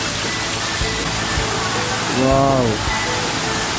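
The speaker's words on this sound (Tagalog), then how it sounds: "Dito nagagaling yung agos." A river current rushes steadily beside a bathing spot at the bottom of a 700-step descent, a constant close wash of water noise with one brief exclaiming voice over it.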